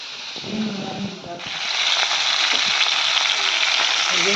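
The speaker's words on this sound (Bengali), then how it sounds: "মাছ এখানে ভাজা হচ্ছে" Fish, rubbed with salt and turmeric, sizzles loudly in hot oil, the frying hiss swelling midway and holding steady after a brief murmur of a voice at the start.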